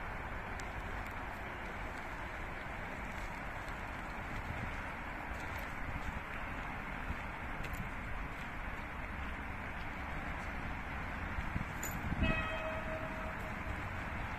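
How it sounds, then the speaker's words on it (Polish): A freight train rolls past in Katowice, a steady broadband rumble and rattle of wagons holding even and continuous throughout, with a brief brighter squeal near the end. "Jedzie towar."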